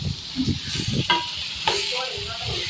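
Onions frying and being stirred in a pan for chicken gravy curry, a soft close sizzle broken by quick scraping stirs and a couple of brief sharp clatters.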